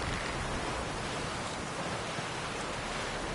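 Steady rain falls in The Witcher 3, a dense, even hiss that holds at constant loudness throughout with no voices or other sounds breaking through.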